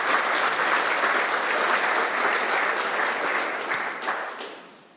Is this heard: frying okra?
no